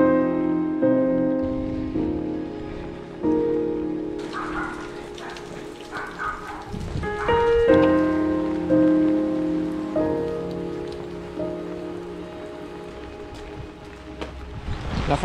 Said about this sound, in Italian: Forte pioggia purtroppo ci ha preso nel momento peggiore